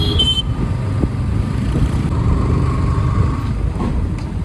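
Dense Bangalore road traffic: a brief horn toot opens over a continuous low roar of car, truck and motorbike engines passing nearby.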